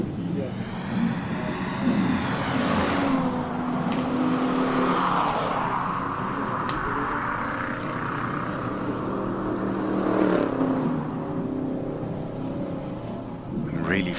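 Classic race cars blast past at the Simola Hillclimb, engines revving and rising in pitch as they accelerate, then fading, with a second car swelling in later under a commentator's talk.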